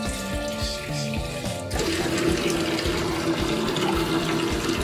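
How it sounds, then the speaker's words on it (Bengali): Water poured into pomegranate juice for a homemade fruit jam, a bright trickling splash at first that deepens into a fuller, steady gurgle as the container fills, close and without speech. "অল্প একটু আমি পানি দিয়ে দিচ্ছি।"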